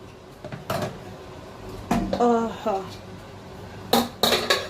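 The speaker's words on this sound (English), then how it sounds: "And I'm going to be covering the pot." A metal lid clanks onto a cooking pot of stew in a home kitchen, a few sharp knocks and ringing clinks spread out, with a person talking between them.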